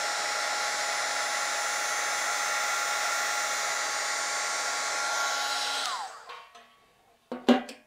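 A heat tool blows hot air steadily onto white embossing powder on a snowy village card, a loud constant whoosh that cuts off near the end, followed by a few faint clicks and a brief knock.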